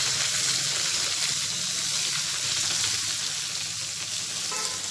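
Onions and green chillies frying in oil for a tomato curry, a dense, loud, continuous sizzle with a crackling texture, heard alone without talk for the whole stretch.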